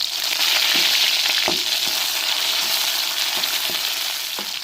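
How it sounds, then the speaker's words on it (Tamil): Mustard seeds, chopped onion and curry leaves fry in hot oil, a loud, dense, continuous sizzle with a few crackles and stirring taps, close up and with no voices. "எண்ணெய் சூடு அடிச்சுங்க கடுகு போட்டுக்கிறோம் வெட்டி வச்ச வெங்காயத்தையும் சேர்த்துக்கிறோம் ரெண்டு கருவேப்பிலை போட்டுக்கிறோம்"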